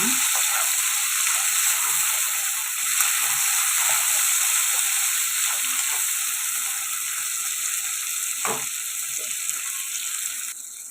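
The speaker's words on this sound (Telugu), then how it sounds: "ఇప్పుడు టమాటా ముక్కలు కూడా వేసుకుందాం ఇవి కూడా ఫ్రై అయ్యి బాగా మగ్గిపోవాలండి" Tomato pieces fry in a pan for a gongura brinjal curry, with a loud, steady sizzle and hiss running throughout, broken by an occasional soft clack of stirring.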